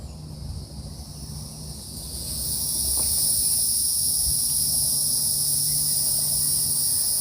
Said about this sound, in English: I don't know if y'all can hear all the cicadas. The cicadas are so loud.